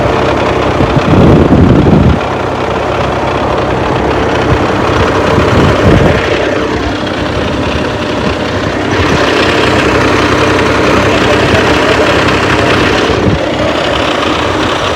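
A farm tractor engine runs steadily on an Indian farm, a loud continuous low diesel rumble with wind buffeting the microphone and a brief louder burst near the start.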